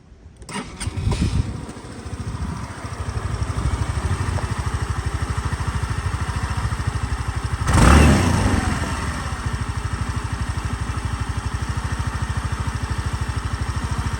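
A 2018 Suzuki Address 125 (DT11A) scooter engine starts, then idles steadily and evenly. Around the middle it gives one brief rev before settling back into a smooth idle, close and fairly loud.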